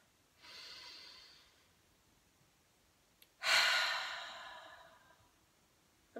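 A slow, deep breath during a breathing exercise, a soft drawn-in inhale followed by a louder, longer breathy exhale, close and quiet with no talking.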